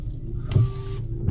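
A 2025 BMW X3 windshield washer pump whirs in short bursts, spraying through the wiper arms, with a mechanical hum in between; close and fairly loud, no talking.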